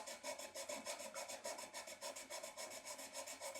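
A file rasps back and forth on a Tusq nut, shaping it to the fretboard radius on a Squier Stratocaster SE. The rhythmic strokes are quick and even, close and soft, with no voices.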